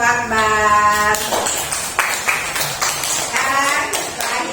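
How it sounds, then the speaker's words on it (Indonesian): Classroom applause for a student group, a continuous patter of many hands clapping mixed with children's high calls and cheers. "beri tepuk tangan untuk kelompok Akbar."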